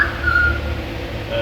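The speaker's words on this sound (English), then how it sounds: "sorry about my phone whistling" Short whistled notification tones from a phone, faint and thin over steady low background noise in a garage.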